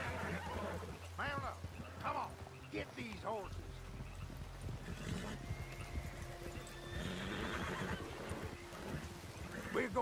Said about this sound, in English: Get these horses!